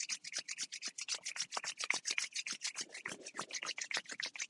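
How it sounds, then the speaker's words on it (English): Hands rubbing briskly together during a yoga session, a close, steady run of quick dry swishing strokes with no talk. "Rub your hands together."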